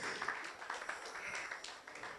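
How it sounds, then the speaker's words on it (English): Faint, steady applause from a conference audience at a data protection and privacy event in Ghana, continuous scattered clapping heard from a distance. "let's keep clapping"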